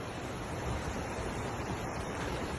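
A rain-swollen creek and river in Santiago, Nuevo León, close to overflowing after heavy rain, produce a steady, dense rushing roar of water with no break or other sound.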